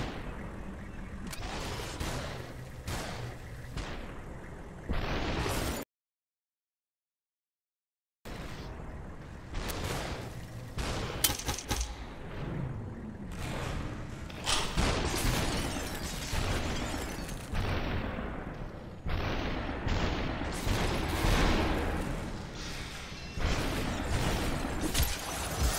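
Gunfire and impacts in the video game Superhot come as repeated sharp shots and bursts in quick clusters, fairly loud, with a short silent gap partway through.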